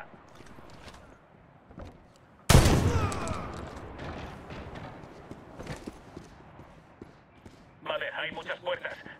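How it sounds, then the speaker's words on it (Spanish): A sudden loud gunshot blast rings out and echoes away in the video game Medal of Honor (2010), with scattered quieter shots and clatter around it and voices talking throughout. "Cuidado con los disparos"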